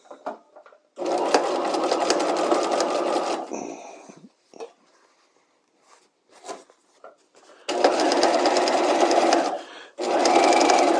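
A sewing machine stitches a piped seam in loud, close bursts of rapid mechanical whirring, separated by a quieter stretch of handling noises and short taps before two more runs of stitching.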